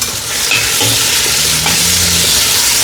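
Tomatoes sautéing with a spoonful of salt in a pan for biryani, a steady close sizzle with scraping stirs and a few low clunks, no voices.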